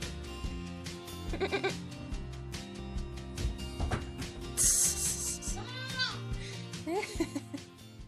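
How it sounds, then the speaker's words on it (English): A baby house goat confined in a tote bleats repeatedly and fairly loudly up close, with mixed rustling and scraping from inside the container between the calls. "Please ignore the noise in the background. That's the baby goat."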